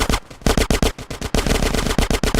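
Rapid bursts of automatic gunfire from the video game GTA San Andreas during a Los Santos gang shootout, loud and close, firing in quick stuttering volleys with brief gaps between them.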